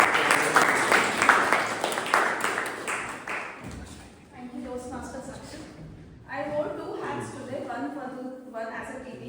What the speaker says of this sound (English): With a big round of applause